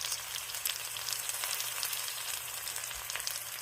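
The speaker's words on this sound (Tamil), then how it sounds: "இதெல்லாம் அப்படியே கொஞ்சம் எண்ணெயில் ஃப்ரை ஆகட்டும்" Onion, green chili and curry leaves fry in hot oil, a steady close sizzle with crackling pops and no talking.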